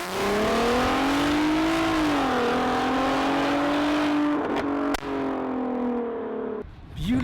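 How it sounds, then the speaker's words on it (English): Loud straight-piped exhaust of a stage 2 VW Golf R32 Mk5 on a launch control start, a strong continuous engine note rising through the revs, with a brief shift break near the end. "I'm gonna do a launch control because I haven't got one of them"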